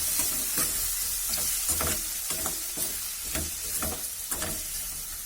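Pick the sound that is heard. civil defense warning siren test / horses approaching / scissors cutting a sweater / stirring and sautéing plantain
stirring and sautéing plantain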